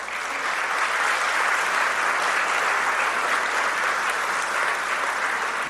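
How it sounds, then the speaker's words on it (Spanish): A church congregation applauds, a dense, even wash of many hands clapping together that holds steadily loud, with no voices rising above it. "Dale un aplauso al Señor."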